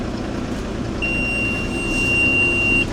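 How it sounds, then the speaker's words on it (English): A cold farm tractor sounds a single sustained high warning beep lasting about two seconds over a low engine rumble outdoors on an early-morning farm. "my tractor's beeping at us because it would like to be warmer"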